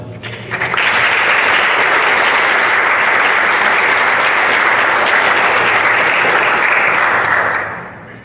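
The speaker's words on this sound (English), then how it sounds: "So round of applause." Town council meeting audience breaking into loud, sustained applause that starts abruptly, holds steady for several seconds, then tapers off at the close.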